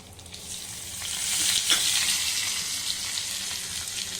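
A tempering of urad dal, mustard, cumin, turmeric, red chilli, asafoetida and curry leaves frying in hot oil for bottle gourd chutney gives a bright, steady sizzle that swells and then holds, close and unbroken by talk.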